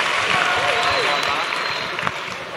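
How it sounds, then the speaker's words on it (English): Audience applause for a young male performer at a school talent show, a steady wash of clapping throughout with some cheering voices mixed in, fairly loud and continuous. "Massive, massive round of applause for this young man, Jarny."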